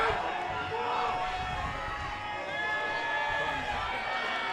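Crowd at a men's Sun Bowl football game between the Rhinos and Ravens, roaring and cheering steadily throughout, loud and continuous with a rumbling, energetic stadium wash and no break.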